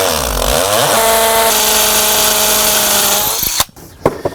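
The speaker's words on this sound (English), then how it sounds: "With the roto hammer, it's going to get a little bit loud." Rotary hammer drilling into rock for a pool equipment install, loud and close, spinning up and holding a steady whine for about three seconds before stopping, followed by a few clunks.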